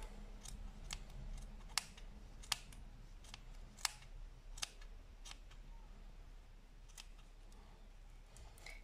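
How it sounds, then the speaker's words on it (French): Sharp scissor snips cutting through crochet yarn loops while trimming a small tassel for a baby blanket, about a dozen quick crisp clicks spread irregularly over quiet room tone, with no talking. "Je passe mon ciseau dessous. Et je viens couper les boucles."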